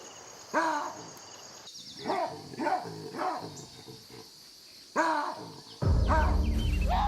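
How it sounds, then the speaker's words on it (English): Loud harsh roaring calls from gelada monkeys during a power struggle in the Ethiopian mountains, several separate bursts over a few seconds, ending in a sudden dense burst of noise. "A loud roar tears through the tense atmosphere."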